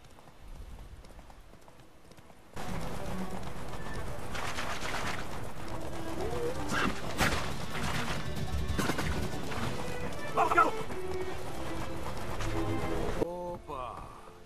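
Horse hooves in The Witcher 3 video game clatter in a rhythmic clip-clop over a busy game soundscape with bangs and thuds, starting after a quiet opening and cutting off near the end.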